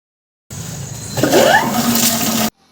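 A submersible motor pump running on a single cable sends water gushing out in a loud, rushing burst that lasts about two seconds and then cuts off abruptly.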